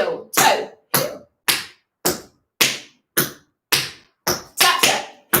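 Tap dance steps in a tap class, about ten crisp toe and heel taps in an even rhythm, each sharp strike ringing briefly in a room, with no talking.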